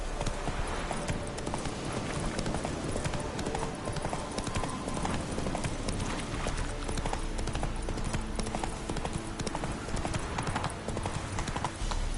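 Horse hooves clip-clop steadily as Roach is ridden in The Witcher III: Wild Hunt, the rhythmic footfalls continuous and fairly close over a dense bed of game ambience and music.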